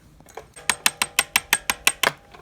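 Rear shock spring preload collar being tightened on a Honda CRF 110 pit bike, giving a quick run of about ten sharp, evenly spaced metallic ratchet clicks, close and fairly loud, with no talking.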